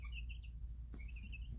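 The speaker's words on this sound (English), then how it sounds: "You could hear just this really nice, happy, and contented little chirps coming out of them." Small chicks peep in soft, high chirps that come in short clusters across the whole stretch, with a brief low thump near the middle, fairly quiet over a steady low background hum.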